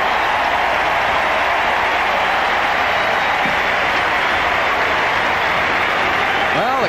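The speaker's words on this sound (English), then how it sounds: "the crowd loves it here at Floyd Casey Stadium in Waco" A packed stadium crowd roars in a steady, loud wash of cheering and applause at Floyd Casey Stadium in Waco during the 1989 Texas A&M at Baylor college football game.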